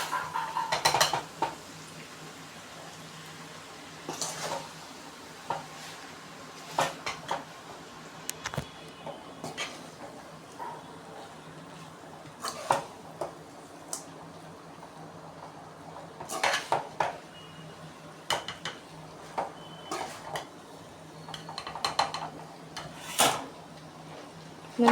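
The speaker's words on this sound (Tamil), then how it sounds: "நல்லா பொறுமையாக ஜஸ்ட் கிளறிக்கோங்க" Boiled Hakka noodles for vegetable Hakka noodles are being stirred in a pan, producing quiet intermittent clinks and scrapes of utensil against metal with soft rustling between, no talking.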